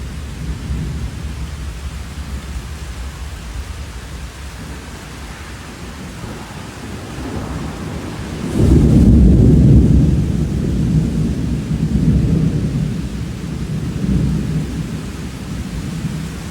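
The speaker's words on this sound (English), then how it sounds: "Okay, there comes the rain. I knew it was just a matter of time. There it is." Steady heavy rain hisses throughout a South Alabama thunderstorm, with a deep rumble of thunder swelling midway and fading back into the downpour.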